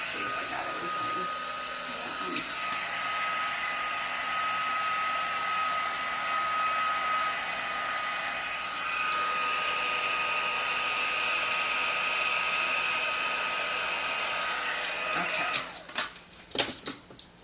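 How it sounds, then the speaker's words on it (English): Embossing heat tool blowing hot air in a steady, loud whooshing roar that runs unbroken for about fifteen seconds, then cuts off into a few sharp knocks and clatters at the end. "that's the last thing we're doing with the heat tool"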